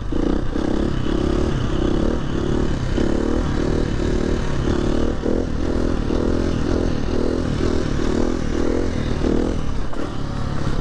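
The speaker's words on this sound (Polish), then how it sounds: "Bardzo mało gazu muszę użyć po to, żeby moto mi wystrzeliło" A motorcycle engine revs in short repeated bursts, loud and close, with a steady throttle pulse and rattling mechanical clatter throughout.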